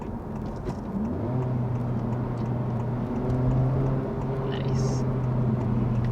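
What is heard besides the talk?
Honda Civic Type R engine downshift rev matching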